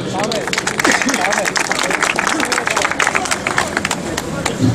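Audience applause welcoming a local association branch president to the podium at an indoor meeting, steady dense clapping throughout with crowd murmur and a voice speaking over it.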